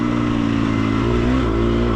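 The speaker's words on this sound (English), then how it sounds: "I think I clicked into third that time. Engine sounds different." A car engine revs steadily and loudly as it accelerates on a hot, dusty ranch track at McMahan's Ranch, a sustained droning hum rising slightly in pitch, close to the listener with no talking.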